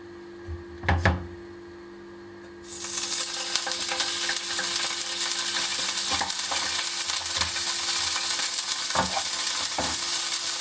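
Butter hits a very hot crêpe pan: after a quiet stretch with a brief clatter, a loud, dense sizzle bursts in and holds steadily, with faint scraping ticks scattered through it.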